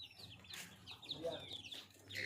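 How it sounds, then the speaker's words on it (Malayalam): Chickens in a Balinese village clucking softly at a distance, quiet intermittent calls over a low background with faint voices nearby. "അവിടെ കുറെ കോഴികളുണ്ട്."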